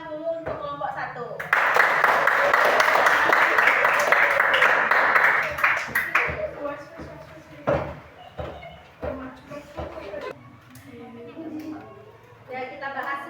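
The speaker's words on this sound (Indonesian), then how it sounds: "Nah, kita kasih tepuk tangan dulu untuk kelompok 1." A class of primary school children clapping for a student group in a classroom, a dense burst of applause for several seconds that fades into scattered claps, bumps and voices.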